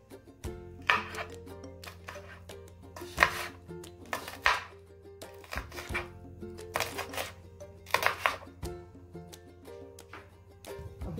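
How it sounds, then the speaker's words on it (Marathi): Two to three green chillies chopped finely with a knife on a board, sharp close knocks landing in quick bursts with short pauses between, alone without talk. "आपण आता 2-3 हिरव्या मिरच्या पण बारीक चिरून घेणार आहे।"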